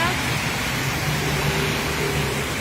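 Steady rain pours down in Ekkamai, Bangkok, a continuous even hiss with no breaks, with faint traffic rumble beneath it.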